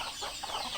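Backyard chickens being fed corn, with a brief burst of clucking in a noisy outdoor setting.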